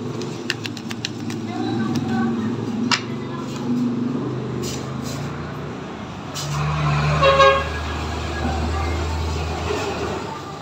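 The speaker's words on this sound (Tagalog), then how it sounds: "may dumaang malaking truck." A large truck rumbles past close by with short horn toots, its low drone swelling and fading, while a person keeps talking over it.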